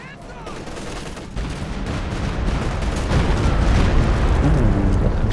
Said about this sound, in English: Ooh, Stuka Barrage.